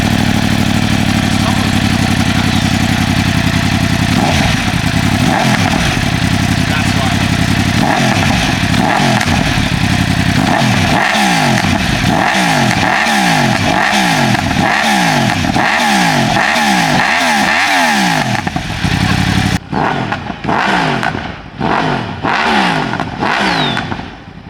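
A straight-piped Yamaha R1 motorcycle exhaust revs hard and close, with a run of quick throttle blips rising and falling in a steady rhythm and a sharp, loud crackle on each rev.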